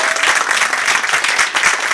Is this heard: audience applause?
yes